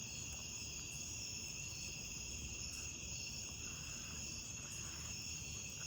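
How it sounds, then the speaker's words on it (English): Crickets chirp steadily through the night outdoors under a cloudy sky before rain, a continuous faint high trill with no voices, the distant insect chorus carrying through the whole stretch. "You gonna hear some wood popping, some crickets."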